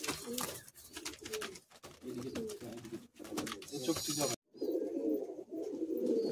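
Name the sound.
pigeons cooing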